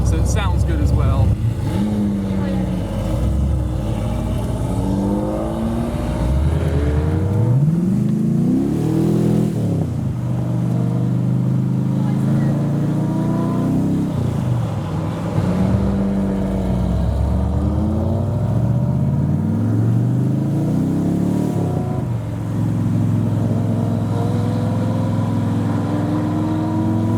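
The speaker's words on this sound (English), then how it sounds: "It's got a European sports exhaust on it, but it is a US car, so it sounds good as well." Rat-rodded Ferrari Testarossa with a European sports exhaust revving, loud rising and falling engine sweeps repeating over and over at close range, with people talking throughout.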